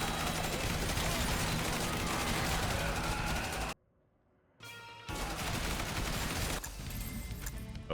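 Turret fire from the zombie survival game Yet Another Zombie Survivors, a dense, continuous rattle of rapid shots that cuts out for about a second and then resumes just as steadily.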